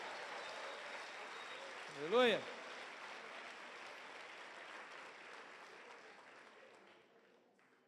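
Congregation at an evening church service applauding steadily for several seconds, a broad even wash of clapping that fades toward the end, with a single voice calling out briefly midway.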